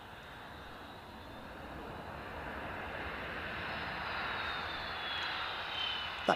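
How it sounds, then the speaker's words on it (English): United Airlines Boeing 757-200 arriving at Edinburgh Airport from New York Newark, a steady jet engine roar that swells gradually and holds with a faint high whine, heard alone with no talking. "Inbound from New York Newark, we have United Airlines 757-200."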